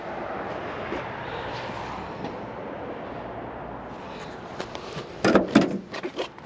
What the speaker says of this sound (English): We'll see how this door shuts.